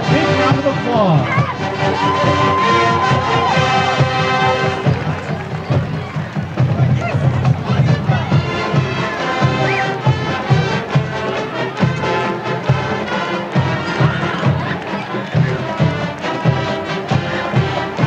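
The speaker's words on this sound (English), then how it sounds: "let's give them one more big round of applause." Sustained loud crowd applause and cheering at a high school football game, honouring the homecoming king and queen, with dense shouting and babble continuing throughout the clip.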